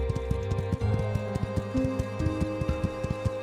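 Horse hooves gallop in a steady, rapid clip-clop rhythm through My Time at Sandrock, a video game, close and prominent over a constant musical background.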